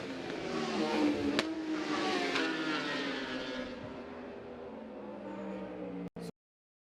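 A Yamaha racing motorcycle during Macau Grand Prix qualifying, its engine a steady high whine passing at speed and fading slightly, with no speech over it, before cutting off abruptly near the end.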